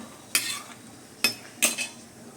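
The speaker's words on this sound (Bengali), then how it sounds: "এবার নাড়বো" Lentil dal being stirred in a cooking pot, the spoon scraping in three separate strokes about a second apart, close and moderately loud with no talk.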